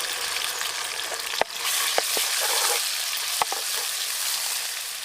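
Ginger-onion paste fries in a pan with onions and green chillies, giving a loud, continuous sizzle broken by a few sharp clicks of a spoon stirring against the pan.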